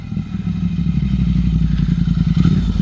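A Triumph Speed Twin 1200 parallel-twin motorcycle fitted with an aftermarket exhaust idles close by, a loud, deep, rapid thumping burble with a slight clattery edge, heard alone throughout.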